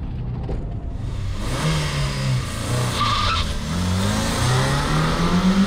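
Opel Astra GSi launching from a standstill on a track, engine revving hard with tyre chirp, then rising acceleration through a gear change, close and steady.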